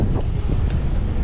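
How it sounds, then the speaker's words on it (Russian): Strong headwind on a seafront promenade in Crimea buffets the microphone in a steady low roar, with no voices. "Встречный ветер сейчас."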